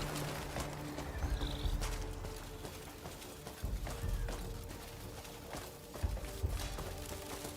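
Horse in the video game Crimson Desert, its hooves clip-clopping in an uneven walking rhythm with a whinny, fairly faint, over quiet game ambience.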